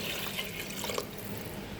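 Water is poured steadily over lentils in a pot for dhaba-style dal tadka. A soft, continuous splashing and trickle fills the whole stretch, with no voices.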